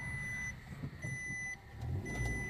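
A friend's car arriving and reversing, its faint electronic reversing beeps repeating in steady pulses over a low engine hum heard from a short distance.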